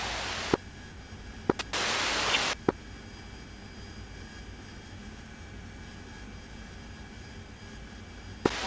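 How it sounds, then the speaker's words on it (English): Aircraft coming in to land at an airbase, heard as a steady, low broadband engine roar with brief louder bursts of static-like radio noise near the start and a sharp click or two. "And the aircraft are just coming into base now"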